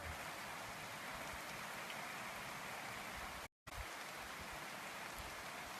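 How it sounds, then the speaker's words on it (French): Heavy rain pours steadily in a dense, even hiss, close and continuous, broken only by a brief cut near the middle. "là il pleut à verse"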